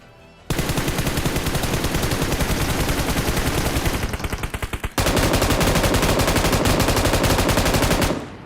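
Rapid automatic gunfire in a video game rattles in two long sustained bursts, loud and close, separated by a brief dip and pause before the firing resumes even heavier.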